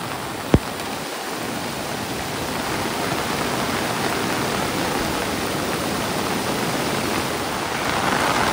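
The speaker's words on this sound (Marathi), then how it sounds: "तर आता पाण्याचा जो स्पीड आहे, जो वेग आहे तो वाढतच चाललाय." A village river in Konkan, flooded after torrential monsoon rain, rushes past in a loud, unbroken roar, with one sharp click near the start.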